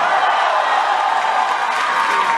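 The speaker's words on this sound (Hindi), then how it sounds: "एक बार इक्विनॉक्स के लिए जोरदार तालियां प्लीज" A college audience in India cheers and applauds for a performing act, a dense, steady roar of crowd noise, whoops and clapping filling the space at full volume without pause.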